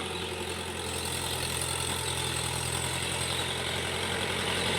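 A tractor dragging a plank behind it churns mud to puddle a paddy field; its engine runs in a steady, loud, continuous drone throughout.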